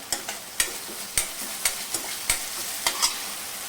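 Tomatoes sautéing in a pan while being stirred, with repeated sharp scrapes and clinks of a spoon against the pan over a soft continuous sizzle, close and fairly quiet, no talking.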